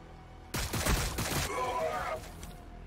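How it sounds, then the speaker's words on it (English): A volley of gunfire in a Warhammer battle, several overlapping sharp shots in a loud cluster followed by a rumbling tail and lighter scattered reports, with a voice speaking partway through. "Taking fire!"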